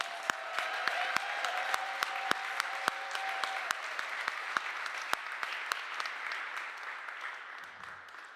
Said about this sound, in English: give her a round of applause as she comes.